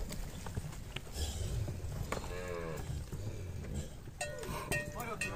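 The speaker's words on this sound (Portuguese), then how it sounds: "olha o boi lá" Cattle on a farm lowing, several drawn-out moos rising over a busy outdoor background with people talking and scattered clopping and knocks.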